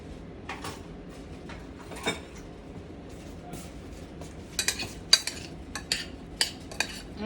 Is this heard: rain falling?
no